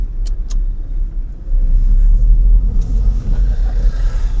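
A car passes close by on a rural road at night, its low engine rumble swelling as it nears and staying loud and steady. A couple of short clicks sound early on, and no one speaks.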